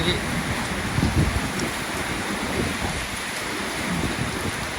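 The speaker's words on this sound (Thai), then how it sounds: "ฝนตกหนักอีดี" Steady, dense all-day rain hisses continuously, close by and fairly loud, with faint low rumbles underneath.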